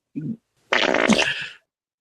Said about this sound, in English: That was just a fart.